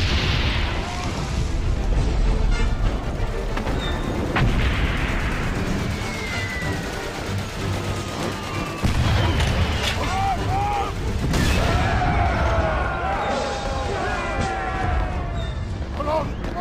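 Artillery fire in Valiant Hearts: The Great War, a World War I battlefield, booms and rumbles continuously, with scattered gunfire and explosions layered over shouting and battle noise.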